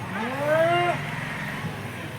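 A bull gives a single short, rising-then-falling moo nearby, followed by quiet background noise.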